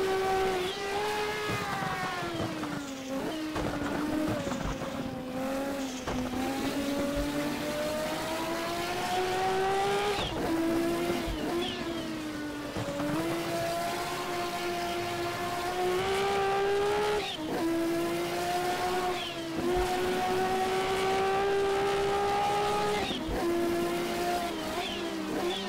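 Japanese-make race cars in a sim racing game at Kyalami, engines droning loudly and continuously, revs rising and dropping through gear changes with occasional tire squeal, no talk.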